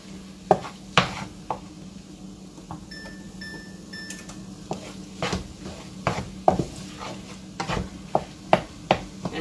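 Leftover homemade chorizo is broken up and stirred in a hot pan, giving a low sizzle beneath repeated scraping knocks of a utensil against the pan, close and irregular.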